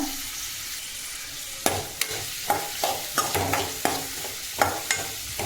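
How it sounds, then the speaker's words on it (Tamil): Ginger and green chili sizzle steadily in a hot pan while a spoon scrapes and stirs, giving repeated sharp clinks every half second or so. "இது நல்லா வதக்கி விட்டுக்கோங்க."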